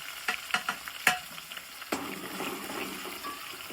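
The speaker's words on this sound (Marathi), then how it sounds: "हे टाकला टमाटर तर ह्याला घ्यायचे मिक्स करून आपल्याला" Tomatoes being stirred and sautéed in a hot pan, with a few sharp scraping knocks of the spoon early on, then a steady close sizzle that carries on to the end.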